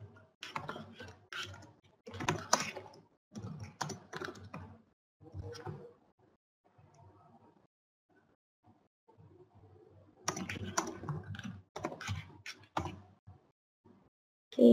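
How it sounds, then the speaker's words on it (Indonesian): Keys clatter on a computer keyboard as HTML is typed during an online session, bursts of rapid clicking separated by pauses, close and fairly quiet. "sambil saya sedang mengetik di HTML-nya"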